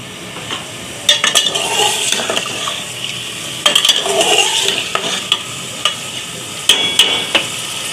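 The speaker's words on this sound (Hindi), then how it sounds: "इसलिए आपने सबसे पहले बीफ को फ्राई करना है।" Chunks of beef for stew sizzle and fry in a pot, with a steady crackling hiss broken by repeated scraping and clattering stirs of a utensil against the metal, close and fairly loud, no voices.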